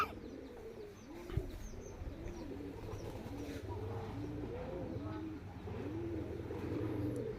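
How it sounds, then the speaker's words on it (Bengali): Domestic pigeons cooing at home, with many overlapping soft, rolling coos repeating close by and a few chirps mixed in, fairly quiet overall. "এগুলো হলো বাড়ির কবুতর"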